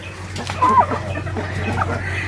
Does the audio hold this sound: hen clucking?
yes